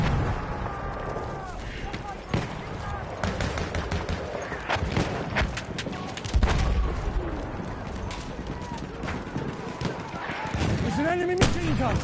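Enemy machine gun fire in a video game: dense, continuous cracks and booms of shooting run throughout, mixed with explosions and a voice talking over the battle.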